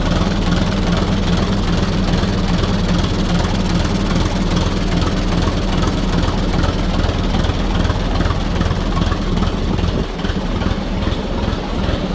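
An old 1938 Fordson tractor engine running steadily at idle, a loud low throbbing chug with a constant rhythm and no voices.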